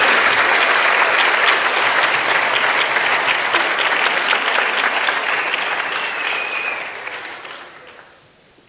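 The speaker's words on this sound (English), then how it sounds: "Please give a round of applause for our Silver Awards." Sustained applause from an audience at a board of education meeting honoring Silver Award student winners, steady and dense for several seconds before tapering off and fading out at the end.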